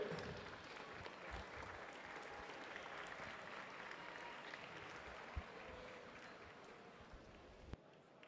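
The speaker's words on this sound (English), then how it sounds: "Let's give Madeline a cheer" A distant crowd applauds and cheers for a swimmer finishing a heat at a county qualifier swim meet. The steady, faint clapping runs throughout, with a couple of sharp knocks.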